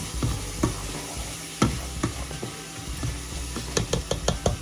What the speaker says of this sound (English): Let me go ahead and blend all of my seasonings.